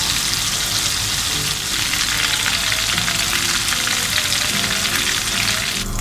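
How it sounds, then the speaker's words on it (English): Spaghetti jollof sauce sizzles and fries loudly in a pan, a dense, steady crackle close up with no talking over it. "Just give it a quick stir, then allow it to fry for about"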